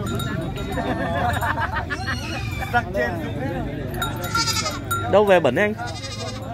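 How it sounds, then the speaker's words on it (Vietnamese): Goats bleat at a busy Vietnamese livestock market, several loud wavering calls rising near the end over constant crowd chatter and nearby voices talking. "Đây một con dê đực."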